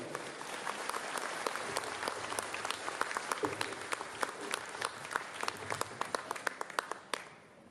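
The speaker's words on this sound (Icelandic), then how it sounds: "Enn á aftur gott klapp" Concert audience at an accordion gathering in Ísafjörður claps for an accordion trio before their set, with a moderate, steady round of applause full of distinct individual claps that stops abruptly near the end.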